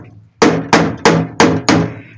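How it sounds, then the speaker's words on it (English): Five loud, evenly spaced hammer blows ring out on a folded steel car fender during a Chevrolet C10 restoration, each strike sharp and metallic with a short decaying ring. "I don't know if I'll be able to hammer that down"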